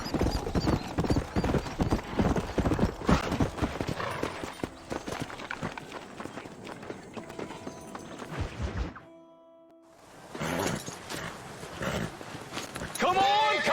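Horse hooves clip-clop in quick rhythm through a Western video game scene, mixed under shouting voices, with a brief quiet gap before the hoofbeats and voices resume.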